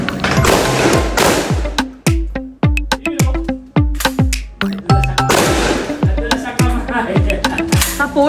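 Shotgun blasts boom at an indoor shooting range in Marikina, many loud sharp reports in quick irregular succession with ringing echoes, under scattered background talk.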